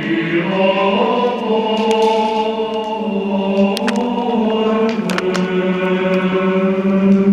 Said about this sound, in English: Gregorian chants, where there's men singing here in the monastery.